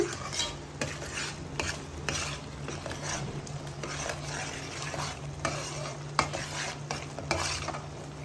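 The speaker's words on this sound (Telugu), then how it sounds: "అప్పటి వరకు మనం ఇలా కొంచెం ఫ్రై చేసుకుంటూ ఉండాలి." Butter chicken gravy with cashews bubbling and sizzling in a pan while a spoon stirs and scrapes in steady repeated strokes, close up, with no one talking.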